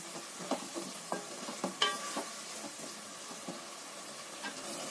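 Ground masala paste stirred and sautéed in a pan for a Tamil spicy chicken gravy, with soft sizzling under a series of scraping stirs and a clink near the middle, close and moderately quiet.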